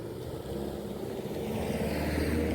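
Car on a downhill road at Bukit Bakkara, its engine rumble swelling steadily as it approaches at speed, passing close with rising road and wind noise.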